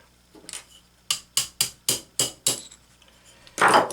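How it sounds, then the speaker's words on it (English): A punch is hammered to drive the piston and wrist pin out of an OS FT-120 model engine: six sharp, evenly spaced metallic strikes, close and loud, followed by a louder clattering knock. "I'm just going to stick this punch right in there so it's not doing any damage. Punch that baby out."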